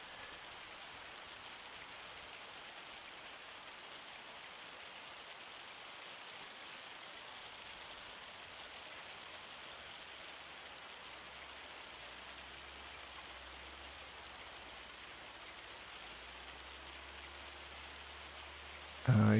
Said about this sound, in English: Oh, I hope this hail doesn't destroy my grass.